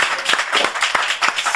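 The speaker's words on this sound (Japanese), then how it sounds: "拍手！" Close, loud clapping from a small group, with distinct individual claps in a quick irregular rhythm and no talking.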